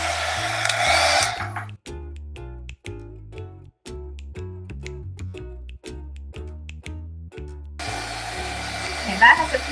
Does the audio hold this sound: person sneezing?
no